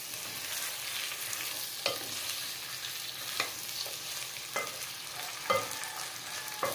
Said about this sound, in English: Simmer lang po natin guys ng mga ilang minutes